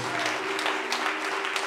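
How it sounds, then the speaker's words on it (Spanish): A church congregation applauding during a sermon, a dense, even spread of clapping over a constant hum, with no clear pauses. "Un aplauso."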